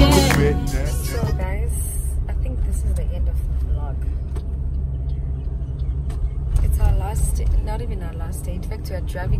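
A car driving on the road back to Joburg, a steady low engine and road rumble running throughout, overlaid by loud music with singing.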